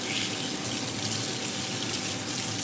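A kitchen tap runs steadily as a cooking spoon is rinsed under it, a close, continuous gush of water with no talk.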